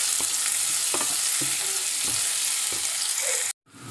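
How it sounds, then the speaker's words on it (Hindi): Chopped onions fry in oil in a pan for a Bengali soybean chunk curry, giving a loud, dense sizzle with repeated spatula scrapes and stirs, until the sound cuts off abruptly near the end. "पेंयाजटाके आमरा लाल लाल करे भेजे नेब।"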